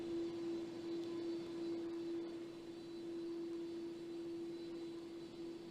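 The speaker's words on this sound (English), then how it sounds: "You see the airplane coming into position there" An airliner taxis into position on the tarmac in Baghdad, giving a faint, distant, steady engine hum with a constant droning tone throughout.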